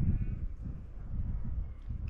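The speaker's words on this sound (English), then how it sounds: "There are so many goats around." Wild goats bleat faintly in the distance in open hunting country, as soft, scattered calls over low outdoor rumble.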